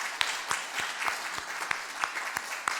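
A church congregation claps for a pastor, steady scattered hand claps from a small gathering with sharp individual claps standing out, moderately faint.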